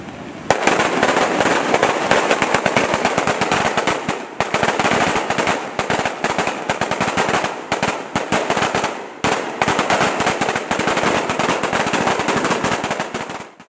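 Around ten thousand seized firecrackers are set off for destruction in a continuous, loud crackling barrage of rapid pops like machine-gun fire, lasting over ten seconds with only brief dips.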